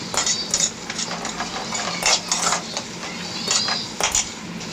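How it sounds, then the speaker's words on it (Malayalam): Beef with turmeric powder being stirred in a pan, a spoon clinking and scraping against the metal in a loose irregular rhythm, close and fairly loud with no talk. "നമുക്കൊന്ന് ഇളക്കി കൊടുത്തേക്കാം."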